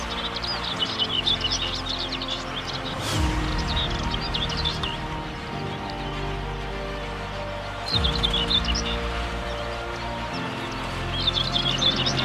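Wild birds sing in an open nature area on the plains of Ploufragan, with bursts of chirps and song phrases rising over a steady outdoor background and coming and going in waves.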